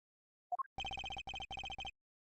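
A cell phone rings inside a video game: two short rising chirps, then four bursts of rapid electronic trilling ring tones, clean and fairly quiet, with no speech.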